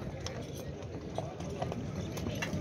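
Faint clip-clop of horse hooves amid a busy outdoor hubbub, with scattered knocks and distant voices.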